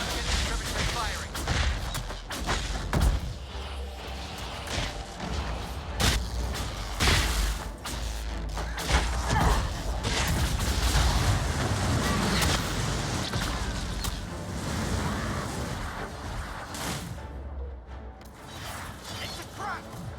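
A siege trebuchet fires in a fantasy battle in Dragon Age Inquisition: repeated heavy impacts, crashes and clanking mechanisms break through a dense, noisy combat bed, with voices shouting among the chaos.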